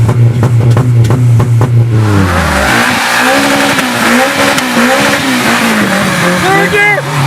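A Honda Civic with a Type S K20 engine swap revs hard and accelerates through the gears, loud and close, with its pitch rising and then dropping at each shift. Excited voices shout over it.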